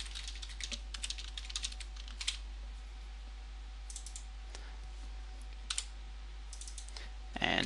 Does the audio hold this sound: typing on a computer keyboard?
yes